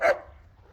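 A dog barks once at a kennel, a single sharp, close bark followed by a short fade into quiet background noise.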